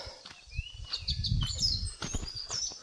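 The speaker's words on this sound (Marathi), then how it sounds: "सकाळ सकाळी पक्ष्यांची किलबिल" Morning birds chirping around a village terrace, scattered high tweets and short whistles at moderate distance, with low rustling and thumps nearby.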